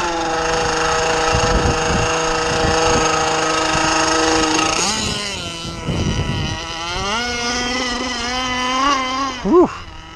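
A small, nearly new engine in a ZippKits Super Sport, likely a model RC boat, runs steadily with a buzzy, harmonic drone, dipping and revving up and down midway, with a sharp throttle blip near the end.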